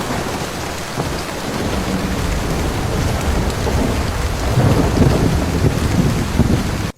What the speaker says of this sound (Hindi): भारी बारिश के साथ अचानक बादल फट गया है